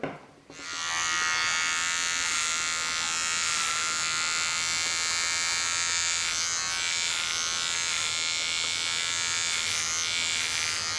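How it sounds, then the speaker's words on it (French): An electric razor shaving facial hair hums steadily and loudly up close, a continuous buzz holding for about ten seconds with slight shifts in tone as it moves across the stubble, no voices over it. "Donc je continue de raser."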